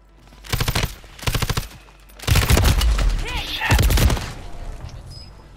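Rapid automatic gunfire in the Call of Duty video game, several loud close bursts in a row with a longer sustained volley, game voices heard in between.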